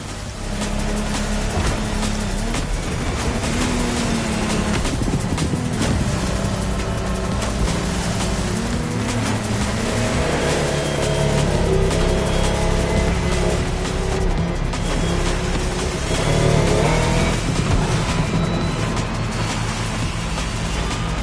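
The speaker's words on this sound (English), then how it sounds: "a boat made by Lamborghini" A powerful Lamborghini speedboat engine in the video game The Crew Motorfest roars steadily and loudly throughout, with a constant droning hum and rushing noise and no pauses.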